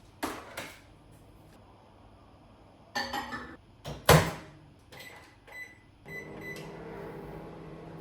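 A microwave oven started in a travel kitchen: a few sharp keypad beeps and clicks, a loud door thunk, then a steady low hum as it begins running.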